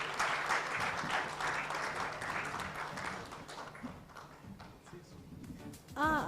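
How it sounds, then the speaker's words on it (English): Audience applause at a bank's sustainability report launch, a broad wash of clapping that gradually fades, followed by a few scattered sounds at the end. "Let's give them another warm round of applause."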